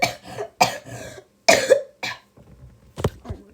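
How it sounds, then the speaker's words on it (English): Several harsh coughs come in quick bursts, close and loud, with brief pauses between fits. "Oh my god, I can't stop coughing."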